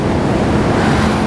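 Ocean surf washes against the shore in a dense, roaring rush of broadband noise, loud and continuous with some wind buffeting, and no voices.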